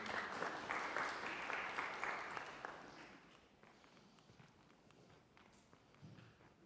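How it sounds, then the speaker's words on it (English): Audience applause at an award company awareness session, a dense burst of clapping that is strong at first and thins after a few seconds into scattered claps, fairly faint and without talk. "Let's clap for her once again."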